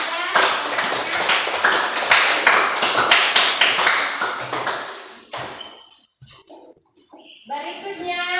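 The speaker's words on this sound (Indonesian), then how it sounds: "mari beri aplaus kepada" A classroom audience claps for a student group that has just finished its presentation, a dense burst of hand claps lasting several seconds before fading out into quiet room sound and some light chatter.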